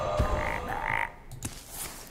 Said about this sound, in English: Double frog. Double frog!